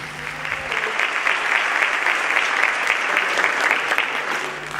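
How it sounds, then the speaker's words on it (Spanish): A theatre audience at a cultural seminar in San José applauds a speaker, with sustained, even clapping from many hands that fills the room and tapers off slightly at the end. "Así que les pido un aplauso para Héctor Olmos"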